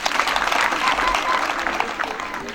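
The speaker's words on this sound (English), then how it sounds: "May you clap again." A school audience claps again for a visiting education official, a dense round of near applause that tapers slightly toward the end, with faint voices among the crowd.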